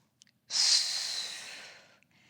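A single long exhale through the mouth, breathy and close, during an upper body exercise, fading gradually after a faint inhale just before it.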